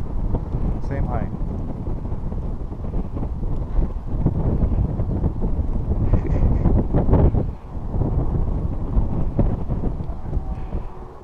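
Strong wind about 1,500 feet up buffets the microphone with loud, gusty low rumbling throughout, and people talk underneath it.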